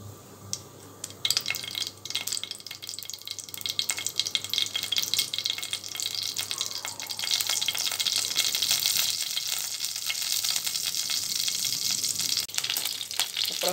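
Mustard seeds dropped into hot oil in a kadai while cooking ponnanganni keerai poriyal, giving a steady, close crackling sizzle that grows denser and louder partway through and carries on unbroken.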